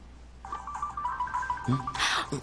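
A cell phone rings with a short, bright tonal melody lasting about a second, followed by a louder, brief burst of noisy sound.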